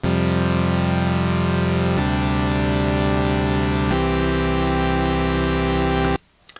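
Vital soft synth on its default patch sounding sustained chords, a bright buzzy tone that changes chord about every two seconds at steady loudness, then stops abruptly just after six seconds.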